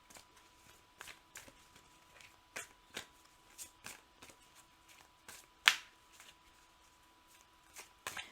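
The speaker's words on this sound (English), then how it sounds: "it's taking time for me to shuffle these cards" Tarot cards being shuffled by hand, a series of soft, quiet riffles and taps spaced irregularly over several seconds, with one sharper snap partway through, heard close up with no talking.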